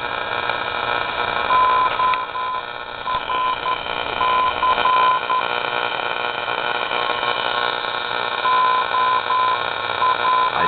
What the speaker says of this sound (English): the CW Morse code signal on the very bottom of the AM band,